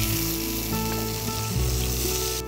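Tomatoes fry in hot oil in a pan, giving a loud, steady sizzle that runs continuously with no talking.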